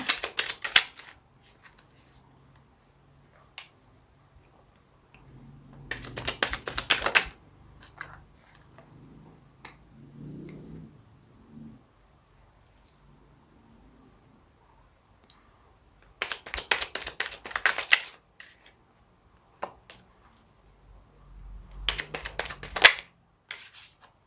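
Tarot cards are shuffled and drawn in a quiet room: three brisk riffling bursts spaced apart, with soft taps and card handling in between, close and clear without talk.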